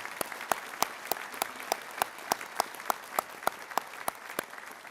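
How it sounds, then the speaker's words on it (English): Audience applause at a police recruit class graduation ceremony, honoring the honor guard and pipe and drums, with a steady patter of many hands clapping and sharp individual claps standing out, moderately distant and without talk. "let's give the Honor Guard and Pipe and Drums a round of applause as well"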